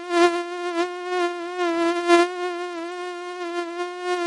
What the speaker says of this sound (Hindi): मच्छर भी तीनों के पीछे उड़ते उड़ते गांव में आ जाती है।